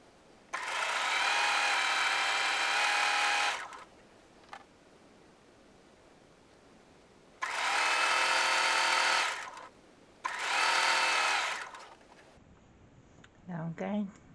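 A sewing machine stitching fabric piping runs in three separate bursts of fast, whirring mechanical buzz, the first lasting about three seconds and the later ones shorter, with quiet pauses between them and a brief voice at the end.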